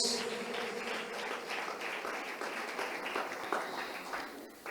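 A church congregation applauds during a service, producing a steady wash of many hands clapping heard from a distance. The clapping stays faint and even throughout, with a low hum underneath.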